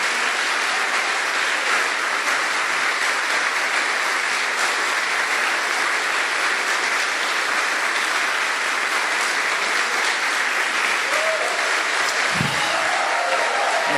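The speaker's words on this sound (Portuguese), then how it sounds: "Pode dar um forte aplauso para Ele mesmo" A church congregation gives a strong round of applause during a Sunday service, dense steady clapping filling the room for the whole stretch with no one speaking over it.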